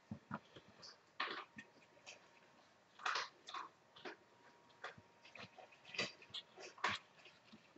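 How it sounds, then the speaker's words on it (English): A dog eats lunch in another room, giving faint, distant crunching and chewing bursts at irregular intervals against a quiet background, with no talking. "He's our doggy, and he's eating his lunch in the other room."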